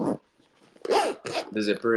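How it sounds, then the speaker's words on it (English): A reverse laminated zipper on a rubberized pouch rasps open in short, close strokes, interleaved with a person speaking. "this is like a reverse laminated zipper"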